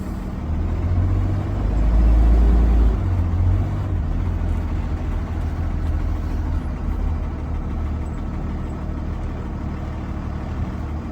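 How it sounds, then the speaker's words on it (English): A school bus engine runs at low revs as the bus creeps forward to about 5 mph during a brake test, a steady close rumble with a brief swell early on, then an even drone. "I will release the parking brake and drive forward to 5 miles per hour."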